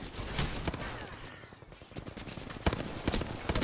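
Rapid automatic gunfire and bursts of shots from Apex Legends, dense and loud throughout, with sharp cracks near the start and end and a brief lull in the middle.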